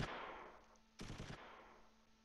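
Machine gun fire in the Close Combat III war game comes as two quick, muffled bursts about a second apart, each trailing off into faint distant rumble.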